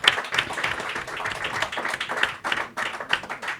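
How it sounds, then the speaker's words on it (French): An audience at a French talk on animation applauds briefly, with uneven, moderately close clapping that rises and dips throughout. "On peut les applaudir un petit peu."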